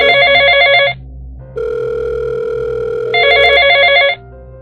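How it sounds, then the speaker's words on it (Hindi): A mobile phone rings with two loud bursts of a bright, warbling electronic ringtone, separated by a steadier lower tone, sounding close and clear against a quiet background. "पॉकेट में रखा उसका फ़ोन बज उठा।"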